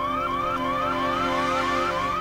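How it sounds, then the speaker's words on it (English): A fire alarm wails in Hitman: Blood Money, a loud, steady electronic tone sweeping upward in quick repeating cycles, with nothing else audible. "fire alarm's going off"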